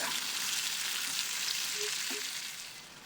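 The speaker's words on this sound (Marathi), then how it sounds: "टोमॅटोला सुद्धा तेलावर छान परतून घ्या." Sliced tomato and onion sizzle in hot oil in a pan, a steady close crackling fry that fades slightly toward the end.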